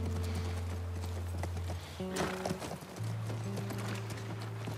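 Horse hooves clip-clopping in the video game The Last of Us Part 1, a steady rhythmic trot near a ranch under low droning game music, with no voices.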